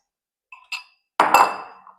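A drinking glass clinks and thumps against a pan while pressing a graham-cracker-style cheesecake crust flat, two light taps followed by a firmer, louder knock that rings briefly.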